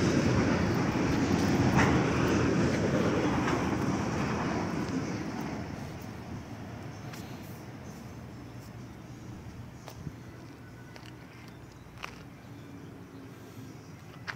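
A Kansas City Southern freight train passes through Altamont, Illinois. Its deep, loud rumble gradually fades over about fourteen seconds, leaving a quieter tail with scattered clanks and clicks.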